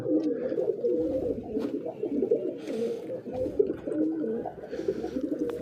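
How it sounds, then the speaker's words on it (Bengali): Several domestic pigeons coo softly and continuously nearby, overlapping throaty murmurs with no talking. "আমার বাকি কবুতরগুলো কিছু কবুতর বাইরে আছে উড়ে বেড়াচ্ছে"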